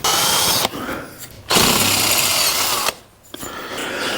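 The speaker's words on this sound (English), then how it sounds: "See what this center drill measures. Yep, it's 1/4 inch. I'll just run it right through." A quarter-inch center drill bores into a steel shaft, a loud high-pitched whining power drill running in bursts with two short pauses between runs.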